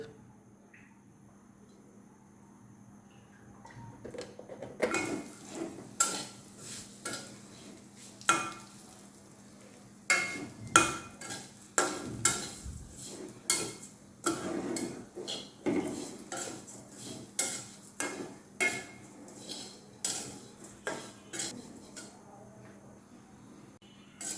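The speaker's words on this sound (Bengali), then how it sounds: "সেমাইটা ভেঙে আমি একটু ভেজে নেব" Broken vermicelli fries in a spoonful of white oil in a pan, with repeated sharp metallic scrapes and clinks of a spoon stirring over a faint, steady sizzle, close and irregular throughout.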